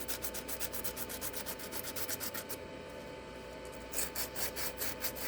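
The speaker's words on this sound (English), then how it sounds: "I might try sanding this." Rapid rhythmic rubbing strokes of sanding on a dried squishy craft piece, close and fairly soft, pausing briefly midway before resuming, with no talk.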